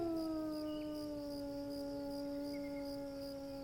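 A long, drawn-out canine howl holds a steady, slowly falling pitch against a faint background hum.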